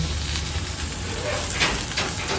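Grilled milkfish (bangus) sizzles steadily as it is turned on the heat, a close, continuous crackling hiss with a few brighter pops partway through.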